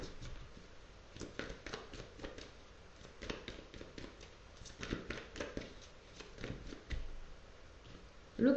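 Tarot cards being shuffled for a reading, a steady run of soft riffling and shuffling by hand, close and fairly quiet, with no talk.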